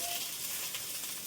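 Pitha, winter rice cakes, frying in hot oil give off a steady, close sizzle that holds at an even level throughout with no voices.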